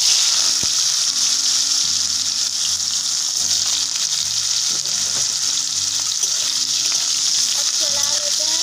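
Loud, steady sizzling of boiled potatoes frying in hot mustard oil, with occasional stirring clinks and bubbling throughout.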